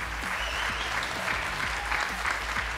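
An audience at a Taiwanese television quiz show claps steadily, dense and continuous applause filling the whole stretch at moderate loudness, with no speech over it.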